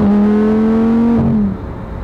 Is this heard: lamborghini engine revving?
yes